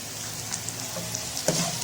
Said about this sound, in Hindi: देखें ये भून रहा है काफी अच्छे से।